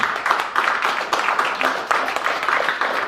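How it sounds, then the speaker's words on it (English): An audience applauds a presentation team at an evening talk on Kangen water, a dense, steady wash of clapping filling the room at moderate loudness. "I just want a round of applause for this team"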